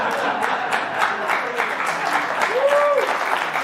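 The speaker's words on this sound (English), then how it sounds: "Applause." An audience applauds at a talk show, a steady mass of clapping with a few sharper claps standing out, a brief tonal whistle-like sweep and faint voices mixed in underneath.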